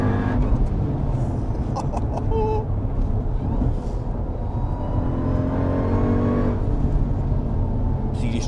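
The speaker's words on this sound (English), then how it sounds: "you can hear the supercharger with any throttle application" A 707 bhp supercharged Jeep Trackhawk engine roars continuously under throttle, with a rising high-pitched supercharger whine threading through the loud, steady rumble.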